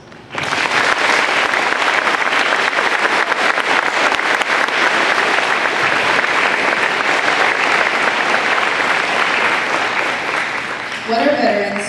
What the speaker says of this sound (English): would please ask to have you all join with a round of applause